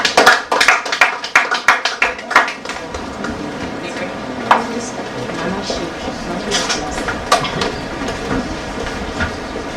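An audience at a fashion live-stream presentation claps, starting with loud, dense bursts of applause that thin into scattered claps over a busy room murmur.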